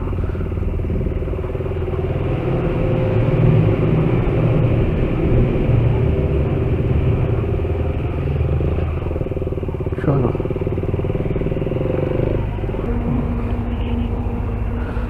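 A KTM 390 Adventure motorcycle engine drones steadily at close range, a continuous low rumble with road and wind noise throughout.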